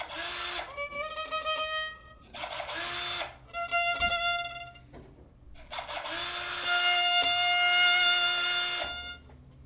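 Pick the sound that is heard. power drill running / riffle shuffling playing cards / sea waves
power drill running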